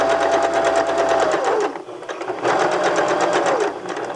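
A sewing machine runs a basting seam with no backstitch along a traced line on fabric, whirring in two steady bursts with a brief pause between, close and loud.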